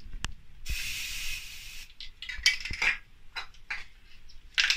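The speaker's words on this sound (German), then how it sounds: "dass es so klingt, wie wenn ihr normal sprüht und dann verändert sich der Ton leicht" Aerosol spray can of primer hissing in short bursts, a steady spray followed by intermittent sputtering puffs as only propellant gas escapes from the nozzle, close and fairly loud.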